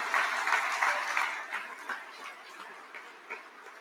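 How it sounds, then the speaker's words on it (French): A political convention audience at a party's national council closing speech applauds in a dense burst of clapping that is loudest at first and then thins and fades, with no talk over it. "Applaudissez-les un peu."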